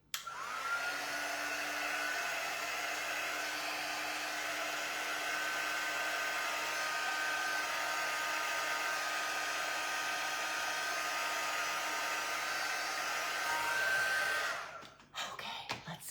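A hair dryer blows on a craft piece for a Highland cow project in a steady, close, unbroken roar that runs for about fifteen seconds before switching off, followed by a few faint clicks.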